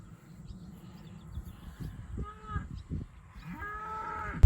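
Cattle moo a few times outdoors, low drawn-out calls rising over a rumbling background, with a louder moo near the end.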